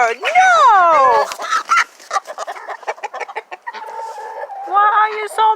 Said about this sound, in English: what you doing to my rooster?